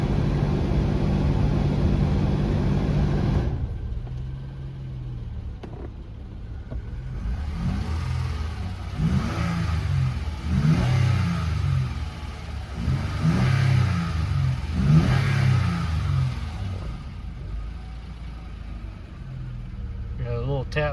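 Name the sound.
2007 Honda Pilot EX engine revving with a tap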